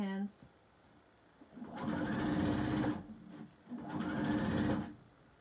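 A sewing machine runs two bursts of stitching along a folded apron seam, each about a second long with a short pause between, fairly close and clear.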